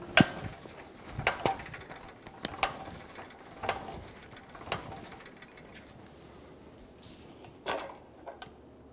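A ratchet snugs down the strut nut on a 2000-2007 Ford Focus during a strut boot and bumper replacement, giving close, irregular bursts of metallic clicking with short pauses between strokes and no talk.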